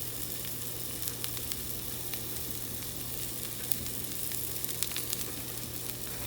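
Garlic sizzling in a hot pan for a shrimp and spinach dish, a constant close crackling sizzle with scattered sharp pops and a low steady hum underneath, no voices.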